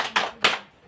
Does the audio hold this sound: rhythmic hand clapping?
yes